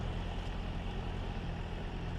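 A Kubota tractor engine runs at a steady idle in a rice field, a loud, continuous low diesel rumble with an even throb and no speech over it.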